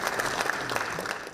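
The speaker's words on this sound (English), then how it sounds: "2 politicians came back to vote, to applause and cheers inside and outside the building." Applause and cheering at the National Assembly as two politicians return to vote, a dense continuous clapping crowd heard briefly.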